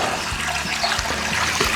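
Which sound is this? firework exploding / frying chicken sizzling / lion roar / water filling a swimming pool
water filling a swimming pool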